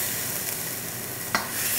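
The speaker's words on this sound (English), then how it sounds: "So it's just really just sealing the meat before it goes into the pot for boiling." Pork neck sears in a hot frying pan, a constant hissing sizzle, close and fairly loud, with a brief clatter of stirring near the end.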